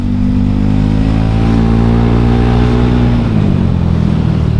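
A modified Honda Scoopy scooter is ridden, its engine loud and close, droning steadily and then easing off slightly toward the end.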